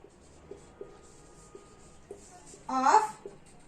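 Pen writing on paper during a class 10 maths lesson, soft scratchy strokes with intermittent light taps and a brief louder scribble near the end.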